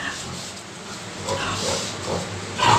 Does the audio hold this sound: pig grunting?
yes